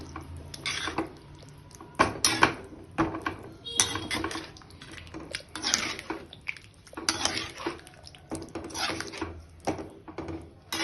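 A ladle scrapes and clanks against a metal pot while moong dal is stirred into boiling Tirunelveli sodhi kulambu, repeated clattering strokes with faint bubbling between.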